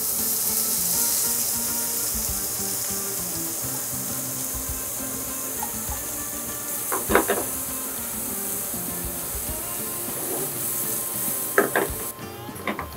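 Onions frying in a pan until deep golden and caramelized for a coconut chicken curry, a steady close sizzle with occasional clinks and scrapes of a utensil against the pan.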